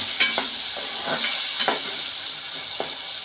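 Spices and tomato for corn chevdo sizzle steadily in a pan while a spoon stirs, scraping in soft, irregular strokes against the metal over a constant frying hiss.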